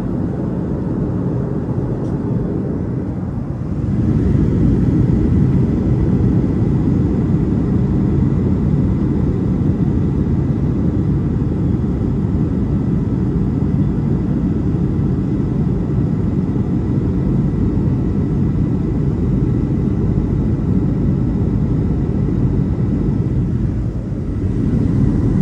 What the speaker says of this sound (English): I think we have finally commenced our flight to Kano.